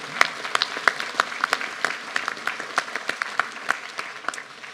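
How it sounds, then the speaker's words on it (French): Audience applause at a town hall New Year's address to residents, a moderate round of scattered individual claps with sharp distinct hits, fairly close and steady, no voices. "Je crois qu'on peut l'applaudir et le remercier."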